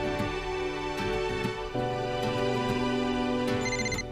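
A telephone ringtone plays as a steady electronic melody with sustained tonal notes, loud and continuous without talk, in a Hindi horror film scene.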